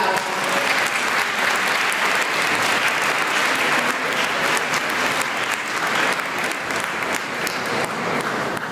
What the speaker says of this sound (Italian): Bella applauso.